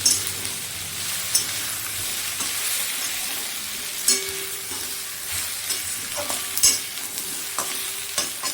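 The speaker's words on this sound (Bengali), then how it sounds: "মশলাটা দিয়ে একটু ভালো করে নাড়িয়ে তারপরে আমি জল দিয়ে দেব।" Spices and soft tomato for aloo chochhori are stirred in a sizzling frying pan: a steady hiss of frying runs throughout, with a spoon scraping and occasionally clinking against the pan.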